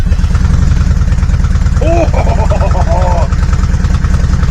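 A Yamaha Virago 535 motorcycle engine runs on full choke, a loud, steady, rough idle throughout, with a brief exclamation from a person partway through.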